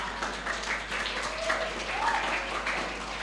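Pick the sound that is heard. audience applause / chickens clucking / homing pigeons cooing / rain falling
audience applause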